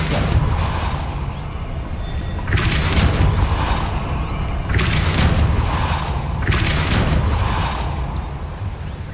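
The Depulso force spell in Hogwarts Legacy, cast three times at even intervals, each a loud, sharp whooshing blast over a steady rumbling game backdrop with no talking.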